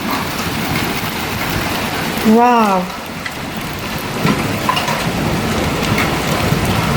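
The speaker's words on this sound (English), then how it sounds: "There's a storm and it's hail." Hail hammers on a house roof during a thunderstorm, a loud, dense and continuous patter, and a voice briefly exclaims partway through.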